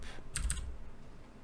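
Two quick keystrokes on a computer keyboard, a close double tap while working in 3D software, followed by quiet room tone.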